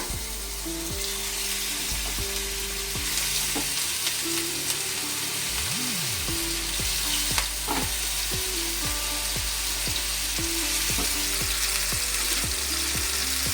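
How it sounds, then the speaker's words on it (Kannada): Mutton keema vada shallow-frying in oil in a pan on medium flame with a dense, continuous sizzle. Repeated scraping and clinking strokes of a spatula sound close and clear, with no talk. "ಪ್ಯಾನ್ ಇಟ್ಕೊಂಡಿದ್ದೀನಿ ಅದಕ್ಕೆ ಎಣ್ಣೆ ಹಾಕ್ಕೊಳ್ತಾ ಇದ್ದೀನಿ ಇದನ್ನು ಮಾಮೂಲಿ ವಡೆ ಥರ ಕರಿಯೋದಲ್ಲ ಈ ಥರ ಫ್ರೈ ಮಾಡ್ಕೊಳ್ಳೋ ಅಂಥದ್ದು ಈಗ ಶಾಲೋ ಫ್ರೈ ಮಾಡ್ಕೊಳ್ಳೋಣ"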